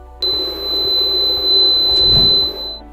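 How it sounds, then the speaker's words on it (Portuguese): A Sonic Compact Maxx ultrasound and current skin-treatment device sounds a steady, clear electronic alarm tone when its programmed application ends, holding for about two and a half seconds before cutting off. "um alarme soará para informar que a aplicação terminou"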